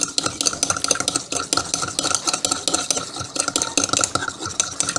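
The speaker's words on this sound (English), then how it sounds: "I add the salt to the solvent, solute to the solvent, and then stir." Salt being stirred into a solvent until it dissolves, a steady scraping and clinking of a stirrer against the container, repeated in quick continuous strokes, close and fairly loud with no voice.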